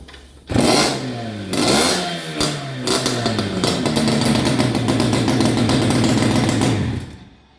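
A freshly serviced moped engine, still being run in, starts and revs hard a few times, then settles into a loud, buzzing sustained rev close by before cutting off.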